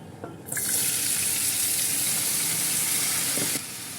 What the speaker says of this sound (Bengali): গামলা ধুয়ে ফুটানো গরম জলটা দিয়ে দিচ্ছি